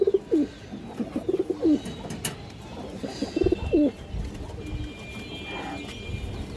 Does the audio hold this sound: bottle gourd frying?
no